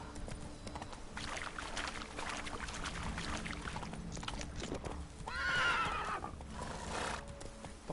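Roach the horse in The Witcher 3 gallops with a continuous rolling clatter of hooves, then lets out a loud neigh partway through, close and prominent.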